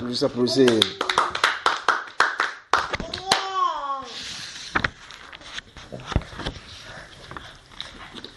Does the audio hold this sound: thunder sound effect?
no